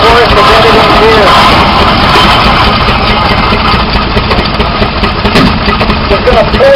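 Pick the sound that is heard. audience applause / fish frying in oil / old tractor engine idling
old tractor engine idling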